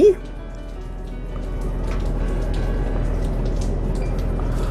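Steady rain patters on a surface by the sea, a soft continuous hiss with scattered drops, and faint voices murmur underneath.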